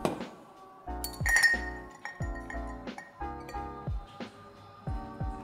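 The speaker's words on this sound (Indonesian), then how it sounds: "Habis itu kita akan masukkan es batu." Ice cubes dropped one after another into a metal cocktail shaker, a series of sharp clinks and clatters in an irregular rhythm, close and clear with no talking.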